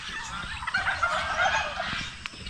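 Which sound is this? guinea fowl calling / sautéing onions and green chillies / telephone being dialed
guinea fowl calling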